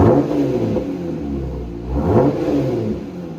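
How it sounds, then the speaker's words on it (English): A Jeep Gladiator engine with a Mopar dual exhaust revs up twice close by, giving a deep, throaty rumble that swells and settles. "So here's the factory exhaust, now replaced with the Mopar dual exhaust."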